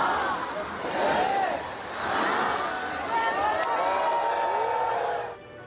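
A dense crowd packs the Champs-Élysées in Paris as the avenue's trees light up all the way to the Arc de Triomphe for the holiday season, cheering and whooping in sustained swells before cutting off abruptly.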